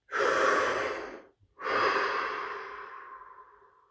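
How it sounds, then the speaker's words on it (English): A deep breath drawn in and then let out, two broad airy swells close to the ear with a brief pause between them, the exhale slowly tapering off in a quiet, still setting. "Deep breath."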